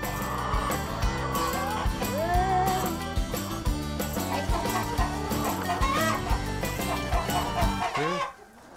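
Hens in a henhouse cluck busily at feeding time, a steady close chorus of overlapping clucks and squawks that runs throughout, fading out only at the very end.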